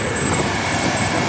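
A Case IH 7140 combine harvester running in a maize field, a loud, constant engine roar with dense mechanical rumble, close and unbroken throughout.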